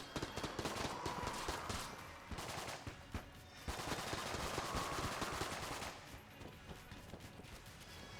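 Continuous rapid gunfire in the video game Enter the Gungeon, dense rattling bursts with brief lulls, steady and fairly loud throughout.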